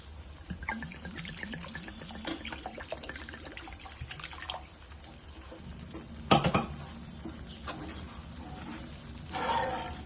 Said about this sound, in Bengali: একটুক্ষণ কষিয়ে আমি পানি দিয়ে দিচ্ছি।